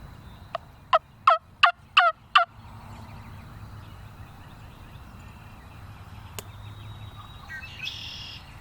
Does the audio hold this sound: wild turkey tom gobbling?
yes